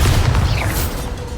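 Bombarda explosion spell going off in the video game Hogwarts Legacy, a close, loud booming blast with rumbling low-end energy sustained through the brief moment, no talking over it.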